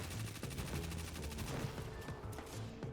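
Rapid bursts of automatic weapon fire in the shooter game Destiny 2, a Prismatic Hunter build, loud and close with dense repeated shots over a steady thumping game soundtrack and effects, no talking.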